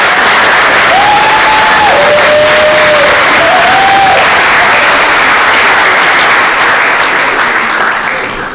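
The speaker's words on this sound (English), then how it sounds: "Let's give them another round of applause." Sustained, loud applause from a large audience at a school athletic awards ceremony, a dense continuous roar of clapping that holds steady for several seconds before easing slightly at the end.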